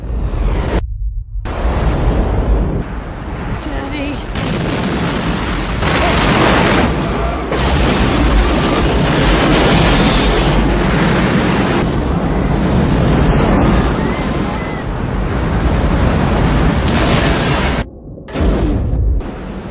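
A film tsunami sweeps over a coastline as a loud, continuous roar of rushing water and booming surge, broken by a couple of sudden silent cuts.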